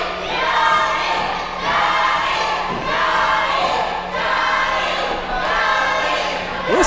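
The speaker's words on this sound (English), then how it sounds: "Listen to that crowd." A crowd at an amateur fake-fight club event chants "Johnny" over and over in a loud rhythmic, pulsing chant with steady swells, surrounding and close.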